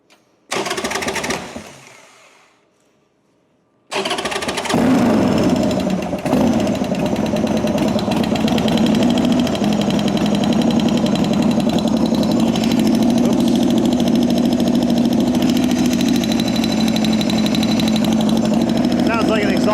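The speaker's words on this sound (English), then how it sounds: "Sounds like an exhaust leak, maybe." A Harley-Davidson 1275 Sportster engine with a suspected exhaust leak runs loudly nearby after a brief cutout, holding a steady, rough idle with a ticking, rattly edge for many seconds.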